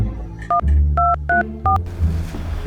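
A quick series of telephone keypad tones beeps in short, uneven bursts, about five presses, with a low background hum.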